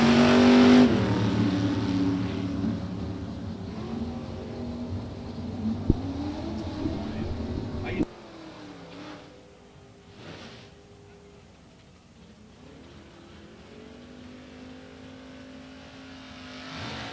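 Drag racing at a strip, with a 1963 Corvette Roadster among the cars: a loud engine roar dies down after a sharp cutoff, then distant revving and passing engine drone continue more faintly, with an announcer speaking at times.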